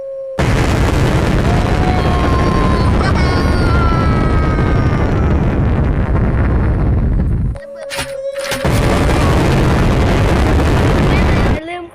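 Nuclear bomb explosions in a shooting video game roar loudly and continuously, one huge blast rolling into another, with a brief dip and sharp crackling bursts before the booming resumes.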